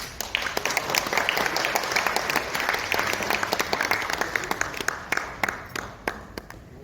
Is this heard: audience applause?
yes